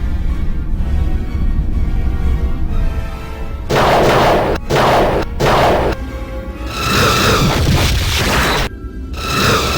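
Starship torpedoes fire and explode in a Star Trek audio drama: deep rumbling booms and whooshing bursts come in several loud, separated blasts over a low sustained drone.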